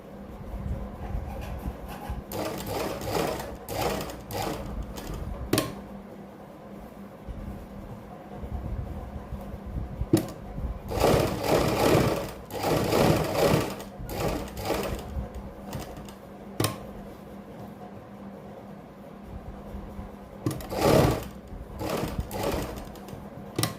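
Sewing machine stitching a kurti neck along buckram, running in several bursts of steady rapid whirring with short pauses between, close and fairly quiet, with no talking.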